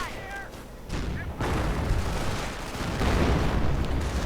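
A sector artillery barrage in a World War II real-time strategy game lands as heavy, rumbling explosions that build in density and grow louder toward the end, with a commentator talking over them.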